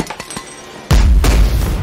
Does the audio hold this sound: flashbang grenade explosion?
yes